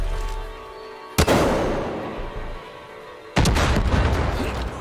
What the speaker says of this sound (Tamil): ரெண்டு ட்ரக் போட்டு வெடிக்க வச்சாச்சு.